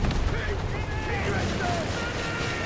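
Grenade blasts in a WWII video game on legendary difficulty, thick, sustained rumbling explosions and gunfire under faint radio-like chatter.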